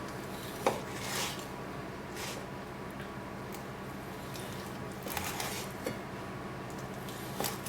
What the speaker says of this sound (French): On vient le trancher.